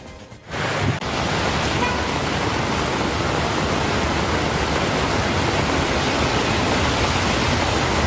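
Heavy downpour pounding steadily after a sudden cloudburst, with storm-drain water overflowing and running across a road; a dense, loud, continuous roar with no voices, broken only by a short dip in the first second.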